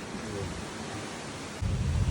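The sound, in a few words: thunder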